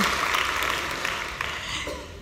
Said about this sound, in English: So clap. This is for yourselves.